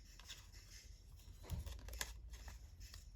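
Scissors snip through paper scraps for a junk journal, a few soft close cuts with rustling, one firmer snip in the middle.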